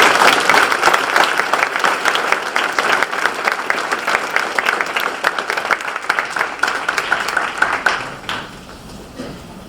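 Clapping from the crowd at a university town hall meeting, a strong, even roll of many hands that continues for several seconds before tapering off toward the end.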